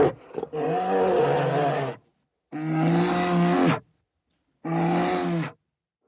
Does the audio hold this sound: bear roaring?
yes